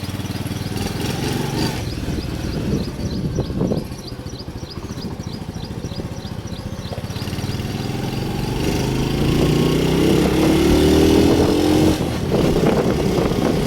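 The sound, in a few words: motorcycle engine running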